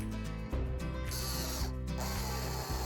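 A power driver sinks screws into a wooden nesting box for Australian birds, giving a steady whirring, ratcheting drone with brief pauses and pitch shifts as each screw bites, close and continuous.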